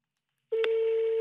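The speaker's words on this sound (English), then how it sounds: "it's ringing now." Mobile phone ringing tone on an international call, a single steady electronic tone starting abruptly after brief silence and holding clearly to the end.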